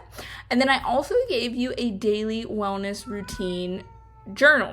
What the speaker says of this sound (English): meowing in the background